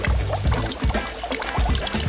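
Water pours steadily from a camping shower filled from a lake, splashing close and loud during a rinse.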